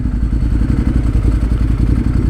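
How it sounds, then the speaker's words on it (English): A motorcycle fitted with a loud exhaust system rated at about 114 decibels rumbles very loudly and close by in a steady, throbbing low drone, with no talking. "this bike does have an exhaust system on it that does run at about 114 decibels"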